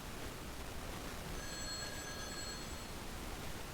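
A telephone rings faintly in the Dark Fall video game, a brief high-pitched electronic trill rising out of a steady hiss of ambient noise, distant and thin, with no voices.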